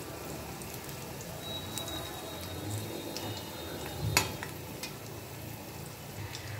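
Mixed vegetable pakoras fry in oil over a medium gas flame, a soft continuous crackle and sizzle like light rain, with occasional small pops and one sharper clack near the end.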